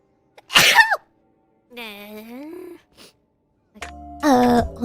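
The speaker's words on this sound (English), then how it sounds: "I have to sneeze before I enter this room" A single sharp, loud sneeze bursts out near the start, followed by drawn-out wailing and moaning vocal sounds.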